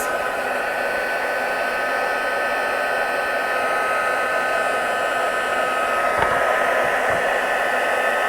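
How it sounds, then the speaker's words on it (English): A heat gun blows steadily to heat embossing during card making, giving a continuous loud whooshing hiss with a faint whine, close by and unbroken for the whole stretch. "Just heating up those little bits."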